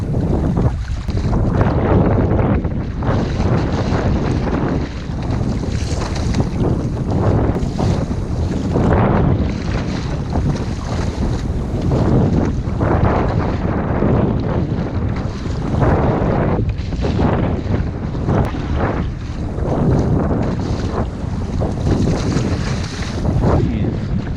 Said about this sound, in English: This wind swell is stupid.